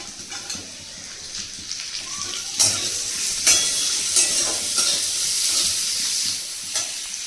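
Cashews and raisins fry in hot oil in a pan for Basanti polao, a steady close sizzle with scraping and stirring clatters scattered throughout, and no voices.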